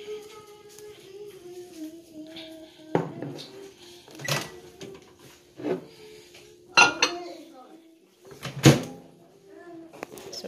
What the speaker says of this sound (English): And you're gonna put this in microwave for up to 90 seconds.